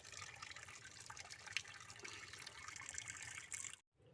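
Fish being washed by hand in water, giving a steady close wash of splashing and trickling that runs almost unbroken, then cuts off abruptly just before the end.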